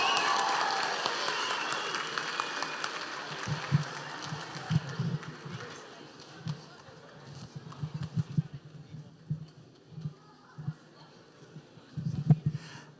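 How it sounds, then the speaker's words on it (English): An audience at a graduation ceremony claps for the graduates, loud at first and fading, with scattered louder claps and faint voices lingering underneath toward the end. "If we can all give our graduates a round of applause."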